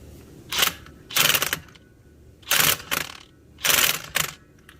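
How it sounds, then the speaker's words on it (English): Impact gun on a medium setting bumping a nut tight during a Honda 420/500/520 primary gear reduction install, four short loud bursts of mechanical rattling and whirring separated by brief pauses, close by with no talking. "We normally just kind of bump it a couple times with our gun on like a medium setting"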